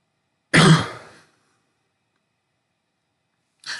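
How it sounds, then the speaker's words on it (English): A single harsh throat clearing, close and abrupt, followed by silence and the start of another at the very end. "So sorry if you can hear me constantly clear my throat."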